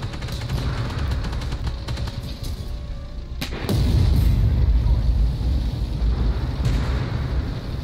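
A tank cannon fires in the online game Armored Warfare, one loud booming blast landing midway through the clip, with engine rumble and smaller battle noise before and after it.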